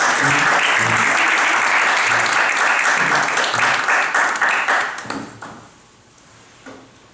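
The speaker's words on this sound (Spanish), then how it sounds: "Un aplauso, sí, a ella." Dense applause from the audience at a short-story competition award ceremony rolls on loudly for several seconds, then thins and fades to a few scattered claps.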